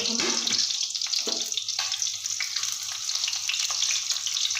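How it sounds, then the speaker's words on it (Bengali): Onions dropped into hot oil, giving a steady loud sizzle and crackle with hissing bursts throughout, no voices. "তেলটা গরম হয়ে গেছে এবারে দিয়ে দেবো আমি পেঁয়াজ পেঁয়াজটা একটু লাল লাল করে ভেজে নেবো"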